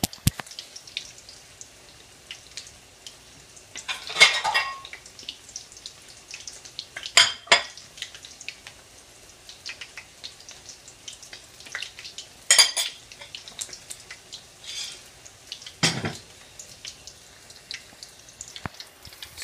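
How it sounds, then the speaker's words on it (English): Plate and spoon being fetched in a home kitchen while fish balls fry, heard as scattered clinks and clatters of dishes and cutlery over a quiet frying hiss, with a few louder knocks spaced several seconds apart. "I am going to get a plate to actually put the cooked balls on once they're done, and get a spoon to fish them out"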